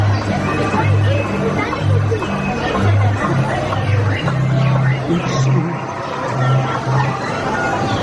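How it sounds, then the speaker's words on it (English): Crowd chatter fills a Disneyland ride queue, a dense, steady babble of many voices close around, with no single voice standing out and a constant murmur throughout. "Got a little bit of a crowd in here."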